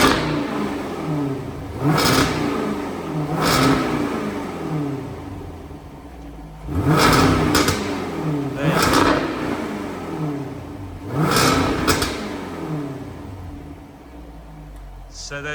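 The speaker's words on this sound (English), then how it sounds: "at the higher rev range, there's this lovely sort of crack and burble sound" A 2021 Jaguar F-Type First Edition 5.0 V8 revs in three bursts, each rising to a roar and falling away with crackle and burble, loud and close, while someone talks over it.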